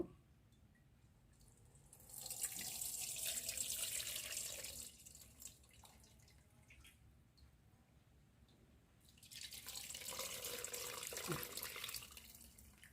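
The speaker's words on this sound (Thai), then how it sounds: "น้ำที่กรองได้ไปใส่ในขวดที่เราใส่เนื้อไว้แล้ว" Strained grass jelly liquid poured into bottles, giving two sustained bursts of trickling, splashing liquid at close range separated by a quieter gap, with no talk.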